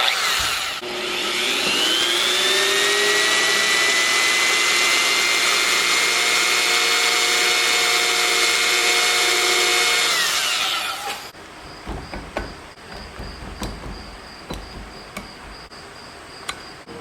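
A high-pitched drill whines continuously for about ten seconds drilling out broken bolts on a Dodge Viper differential, then stops, leaving clinks and small metallic clatter.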